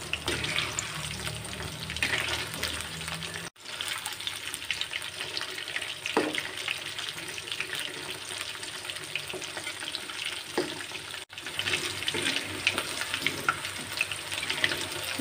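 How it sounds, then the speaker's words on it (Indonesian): Flour-coated chicken fries in hot oil, a continuous close, dense sizzle and crackle that stays loud and steady throughout, with no talk. "Goreng ayam sampai semuanya selesai ya"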